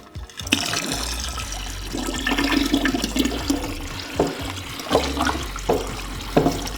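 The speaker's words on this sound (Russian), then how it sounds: "Теперь я добавлю немного воды холодной и" Cold water pours steadily into a pot of whiskey mash with a gurgling, splashing flow, punctuated by several louder splashes and knocks.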